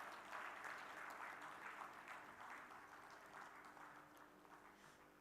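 Sustained applause from a ceremony audience during an MOU exchange at a government platform launch: dense, even clapping that starts strong and tapers slightly, heard from a distance.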